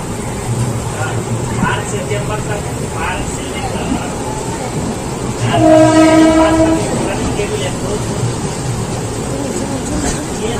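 The Kanyakumari superfast express train rumbles steadily nearby with clacking wheels, and a loud horn blasts for about a second midway through the passing.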